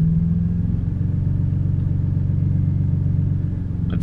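A car with a sprint booster accelerates in race mode at the Nürburgring, its engine a loud, close, low pulsing rumble that holds steady over four seconds with no talk.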